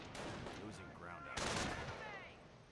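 Gunfire from machine guns in the Company of Heroes strategy game rattles in dense bursts around a church, loud and continuous, with someone talking over it.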